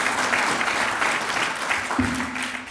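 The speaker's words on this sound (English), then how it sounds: "Let's give a hand of applause to these great presenters here." Audience applause at a community forum on jobs and contracting opportunities, a steady wash of clapping from a room full of people lasting a few seconds, with a faint hum underneath.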